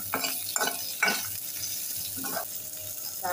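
Onion petals sautéing in hot oil for a Kerala-style sambar: a soft, continuous sizzle with several quick stirring scrapes in a pan, fairly quiet and close.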